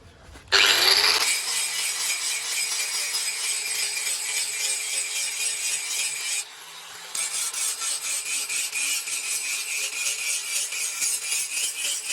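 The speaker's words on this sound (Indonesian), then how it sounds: "Gerinda penajaman sekarang lebih bagus lagi kalau ini saya gerinda lagi" A grinder sharpening a steel bush knife blade gives a loud, continuous harsh grinding whine that starts abruptly, dips briefly midway, then resumes with a steady rasping pulse, close up with no talking.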